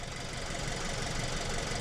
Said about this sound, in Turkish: Bir motorun sesini dinleyelim.